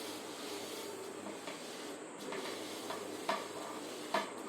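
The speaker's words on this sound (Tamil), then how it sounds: "நல்லா செவக்க பொரிய அரிசி வறுக்கிற அளவுக்கு இந்தமாரி வறுக்கணும்" Rice dry-roasting in a pan for jaggery puttu, a soft continuous sizzling hiss with a couple of faint stirring scrapes, quiet and close, no voices.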